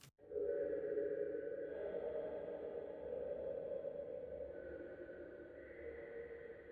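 Atmospheric reverb layer for a StarCraft Zergling creature sound, built in Logic Pro X: a faint, sustained electronic drone with shifting tonal layers, like distant sonar, playing alone after a brief click at the start.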